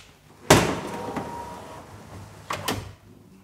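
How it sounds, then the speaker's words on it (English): The fiberglass doors of a rare classic car slide down and up at the push of a button, giving two distinct thunks about two seconds apart, with a faint mechanical hum between them. "these doors are sliding down and up"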